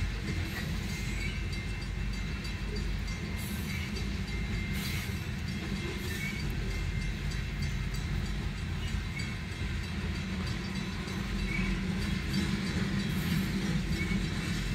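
A Union Pacific freight train of tanker cars rolls steadily past a road crossing, producing a continuous low rumble with rhythmic wheel clatter and faint squeals, heard close from inside a truck cab.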